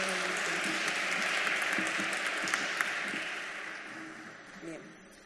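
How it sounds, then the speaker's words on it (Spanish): An audience applauds a historian introduced at a conference on Peruvian labor archives, a fairly faint, steady patter of clapping that thins and fades toward the end, with a voice briefly heard near the close. "Un aplauso."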